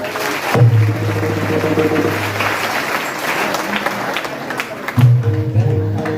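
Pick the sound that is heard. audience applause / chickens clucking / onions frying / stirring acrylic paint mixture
audience applause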